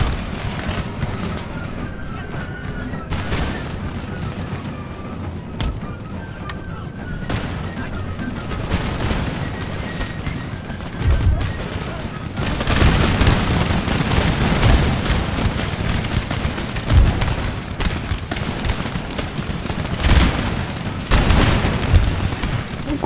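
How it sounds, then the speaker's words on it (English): Musket volleys crackle across a battlefield in Empire: Total War, with repeated ragged fusillades, booming cannon-like thuds and a steady roar of combat, growing denser and louder toward the end. "Good bit of musketry, boys."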